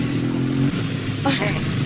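A motorcycle engine hums steadily close by, shifting pitch as it revs, with voices talking over it.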